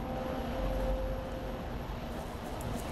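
A steady, distant C-130 aircraft drone in a video game hums under a faint whine, droning evenly with no voices.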